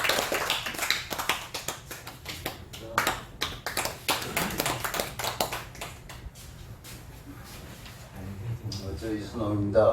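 An audience at a Korean church worship and political meeting claps for an arriving speaker, with many sharp hand claps that thin out over ten seconds while voices talk over them.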